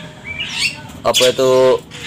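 A kacer bird gives a few bright chirps, a short call followed by a longer sustained note, fairly close against a faint background.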